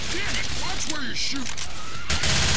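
Gunfire in Left 4 Dead 2 keeps up as a dense, rapid fusillade, with cries and growls from the game mixed into the continuous shooting.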